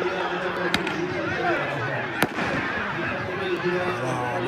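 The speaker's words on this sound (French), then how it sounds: "Avec encore les feux d'artifice." Fireworks go off during an outdoor football match between Morocco and Guinea at a local nations cup, two sharp separate bangs rising over continuous crowd noise while a commentator talks.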